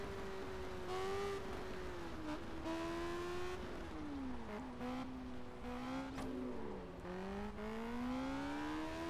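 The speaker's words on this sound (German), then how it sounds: "Jetzt können wir ordentlich Gas geben." Car engine in the racing game Test Drive Unlimited revving and climbing through the gears, a loud continuous whine that rises, drops at each shift and rises again, with brief tire noise.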